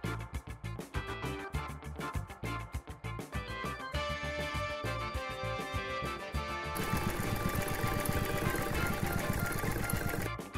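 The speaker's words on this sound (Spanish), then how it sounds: "Cóselos juntos con una máquina de coser." Sewing machine stitching cut plastic folder pieces together, a steady fast mechanical whir with rhythmic needle chatter that grows denser and louder toward the end, close by with no talk.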